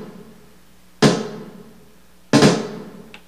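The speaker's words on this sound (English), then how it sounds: "Now when you listen to that snare, it sounds very stiff, very dry" Two stiff, dry programmed snare drum hits, sharp and close with a short decay, spaced evenly apart in quiet surroundings.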